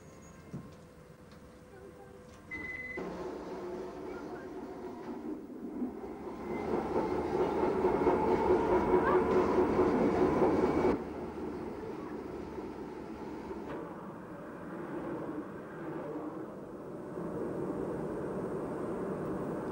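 A Docklands Light Railway train runs on a viaduct through East London with a rumbling, rising and fading roar of wheels and motors that swells to a peak midway. A narrator speaks over it.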